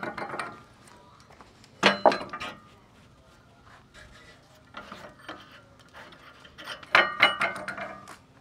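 Sawmill log clamps being released and taken off, with a couple of loud metallic clunks and rattles standing out near and sharp against quieter mechanical rubbing and shuffling.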